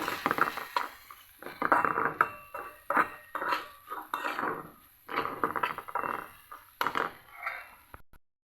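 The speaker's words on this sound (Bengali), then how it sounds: "এখন ডালটা মশলাটা আমি ভালো মতো ভেজে নিচ্ছি" Red lentils being fried with spices, including chili powder, in a pan: repeated scraping and clinking of a utensil against the pan, in irregular close strokes.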